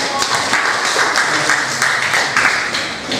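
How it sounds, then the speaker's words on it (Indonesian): A group applauds, steady clapping from many hands that holds for a few seconds before easing slightly. "Beri tepuk tangan untuk kelompok."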